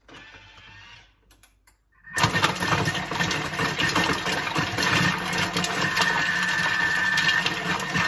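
A Thermomix set to speed 4 chops carrots, turnips and celery. The motor starts suddenly after a short quiet stretch, then holds a loud, steady whirring drone with rattling pieces for several seconds.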